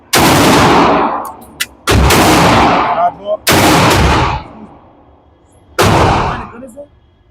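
Four loud rifle shots from a GQ Armory Paladin carbine in 6mm ARC, fired at an uneven pace with sharp cracks and long rolling echoes, recorded close and outdoors.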